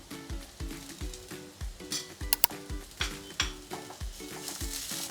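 Ground fried onion paste and ginger go into a hot pan for a paneer gravy, with continuous sizzling under a regular rhythm of a spoon scraping and clinking against the pan, plus a few sharper metallic taps.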